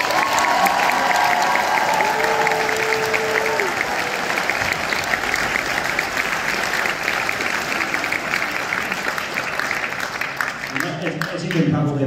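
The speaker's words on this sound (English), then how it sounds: "Let's give the 2023 seniors a round of applause." A high school spring concert audience applauds the 2023 seniors, sustained loud clapping mixed with crowd noise and a few cheers, lasting over ten seconds before tapering off as a voice begins.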